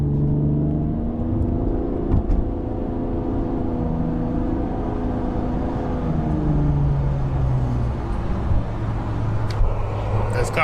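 A 2009 Nissan Maxima SV with a CVT transmission accelerates from inside the cabin, its engine holding a steady, droning rumble at constant revs under continuous road noise for the whole stretch.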